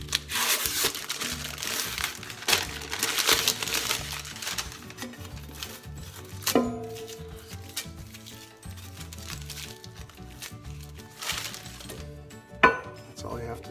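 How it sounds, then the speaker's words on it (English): A foil label is peeled off a Kirkland coffee can, giving close crinkling, tearing rustles in uneven bursts with a couple of sharp metallic clinks from the can. "What you need to do first is remove the foil label from the outside of the can."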